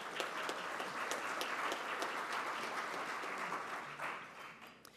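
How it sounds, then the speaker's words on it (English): An audience at a Rotary club meeting applauds, giving a fairly soft, even wash of many hands clapping that holds steady for a few seconds and then thins out near the end. "Let's give them a round of applause."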